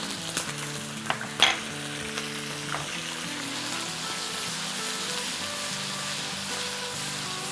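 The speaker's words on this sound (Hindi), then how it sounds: "हाफ कप ऑयल डालने के बाद हम सबसे पहले इसमें डालेंगे 3G paste, ginger garlic and green chilli" Ginger, garlic and green chili paste frying in hot oil in a pan, a steady loud sizzle and crackle with a few stirring clinks near the start, no talking.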